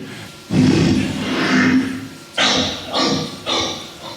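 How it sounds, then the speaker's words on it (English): A hoarse, breathy vocalization from a debarked dog repeats in rough bursts: one long rasping call, then three shorter strained ones, close and fairly loud. "So that's the debarked dog."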